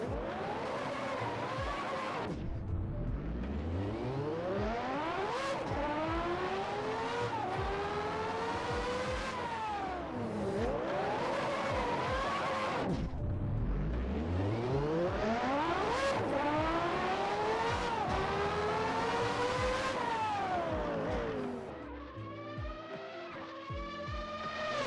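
A McLaren MP4/5B retro Formula 1 car in Assetto Corsa screams through repeated high-revving upshifts and downshifts, a shrill rising and falling engine wail sweeping up and down in several cycles, with no talk.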